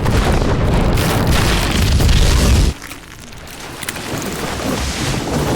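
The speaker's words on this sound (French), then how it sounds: "Une grosse explosion retentit sur le navire." Deep, heavy boom of an explosion on a ship in a Pirates of the Caribbean film, with rumbling low-end roar for a few seconds, then a sudden drop to a quieter, crackling aftermath.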